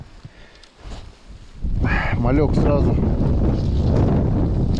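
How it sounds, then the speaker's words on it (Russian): Strong wind with a blizzard sweeps across an open winter fishing spot, a roaring gust that swells suddenly partway through and stays loud and buffeting while someone talks over it. "Поднялся сильный ветер с метелью."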